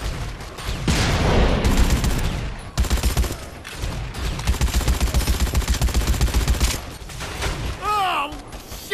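Automatic gunfire in Dead Rising 4, loud, sustained bursts of rapid shots, first a long roaring volley, then a steady stuttering stream of rounds that cuts off near the end.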